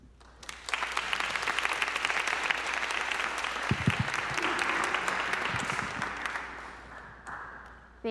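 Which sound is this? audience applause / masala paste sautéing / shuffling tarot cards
audience applause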